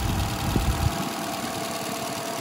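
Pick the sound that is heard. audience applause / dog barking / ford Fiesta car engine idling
ford Fiesta car engine idling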